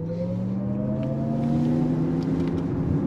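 A 2023 Lexus RZ 450e electric SUV accelerates from inside the cabin, its motor giving a smooth rising whine that climbs steadily in pitch over a constant road rumble for a few seconds.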